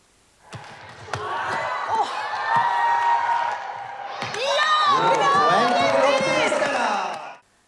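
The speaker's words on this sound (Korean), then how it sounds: "열렬한 환호를 받으며 각 팀의 선수들이 입장합니다" A crowd cheers loudly as volleyball teams, including an elderly Norwegian women's squad, enter at an international volleyball tournament in Sollentuna, Sweden. Sustained roaring and shouting rise after a brief pause and keep going for several seconds.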